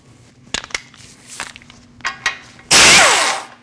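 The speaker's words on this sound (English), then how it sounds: "We're going to take off this lower ball joint nut." Work on a lower ball joint nut of a 2014-2023 Jeep Cherokee front suspension: a few scattered metallic clicks and knocks, then a loud burst of a power tool, likely an impact wrench, spinning for about a second.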